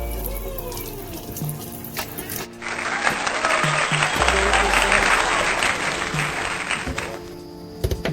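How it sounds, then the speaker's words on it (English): Water poured over a hot pressure cooker to cool it down, a loud continuous hissing gush with sizzle that starts abruptly and runs several seconds before tapering, with a voice briefly heard around it. "So pour some water on it to cool it down and then open it."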